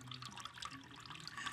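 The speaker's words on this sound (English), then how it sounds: "And just listen to this water." Water trickles and splashes softly in a Smart Solar Chatsworth two-tier solar water fountain, a faint, steady burble with light drips and no talking.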